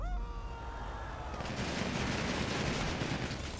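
Rapid automatic gunfire in a video game, shooting out car tires, sounds as a dense, continuous loud barrage that swells and keeps rattling without pause.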